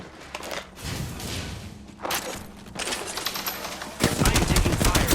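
Rapid bursts of gunfire in a shooter video game crackle in close, dense volleys that swell louder toward the end, with no talking.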